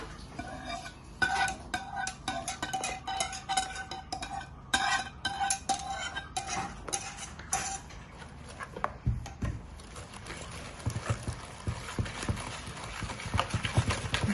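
A cream mixture for sweet vermicelli dessert is stirred with a utensil in a bowl, giving steady close scraping and clinking strokes that continue throughout with no talking.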